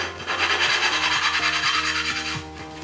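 Back-and-forth rasping of a valve being lapped into its seat on a 5 hp Briggs flathead engine, a steady scrubbing rub with regular strokes and brief pauses, close and alone.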